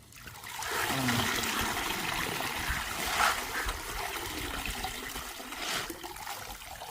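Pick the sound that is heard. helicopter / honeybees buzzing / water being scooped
water being scooped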